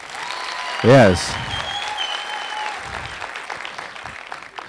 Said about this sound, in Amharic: ለራሳችሁ ሞቅ ያለ ጭብጨባ